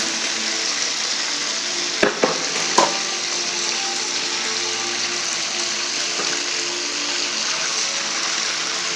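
Pieces of chicken frying in hot oil, a steady loud sizzle and crackle that runs without a break, with a couple of brief clinks of utensil handling early on and no voices.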